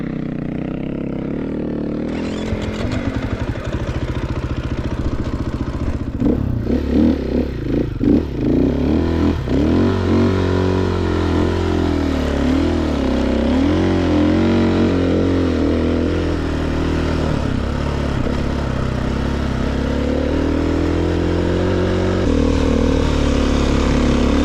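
Motorcycle laboring through deep desert sand in Morocco, its engine revving hard and close with wavering, straining pitch, sputters and clattering bursts, then a steady loud drone under rider wind noise.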